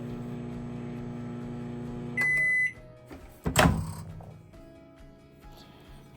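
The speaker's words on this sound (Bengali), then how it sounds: "আমি তেলটিকে এক মিনিটের জন্য মাইক্রোওয়েভ করব।" A microwave oven heats a bowl of cooking oil with a steady low hum for a couple of seconds, then gives a short beep, followed by a clunk and rattle as the door opens.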